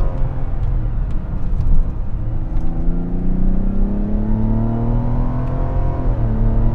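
Engine of a 2024 Mazda CX-90 pulls steadily from inside the cabin, its drone rising in pitch, then a smooth gear shift drops the revs before the climb resumes; no talking.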